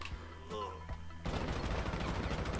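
Machine gun fire in GTA V, a few sparse shots and clanks giving way to a dense, continuous burst of rapid automatic fire that fills the rest of the moment, no talking over it.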